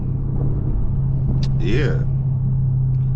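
A BMW M550 cruises along the road with a steady low engine and road rumble throughout, while a voice briefly speaks over it.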